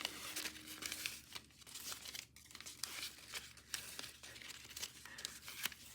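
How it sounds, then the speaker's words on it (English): Paper backing peeled off fusible applique fabric pieces for a snake quilt, giving a close, continuous crinkling and tearing rustle with small crackles throughout. "I'm going to peel off the paper backing"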